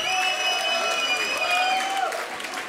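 A crowd at an outdoor concert applauds the band, the clapping mixed with whistles and cheers. Sustained, fairly loud and close, with some crowd noise underneath.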